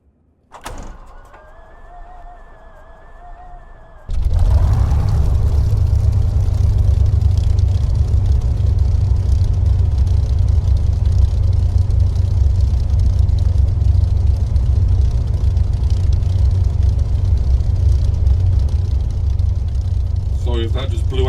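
Hawker Hurricane Mk1A piston engine in a flight simulator coughs and catches after a quiet whirring start-up, then settles into a loud, steady, deep roar that runs unbroken to the end.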